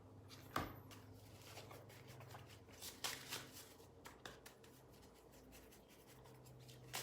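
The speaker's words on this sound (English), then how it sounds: "Comment, and I will start shuffling." Playing cards being shuffled by hand, soft papery riffles and taps with scattered rustling and clicks, quiet and close with no one speaking.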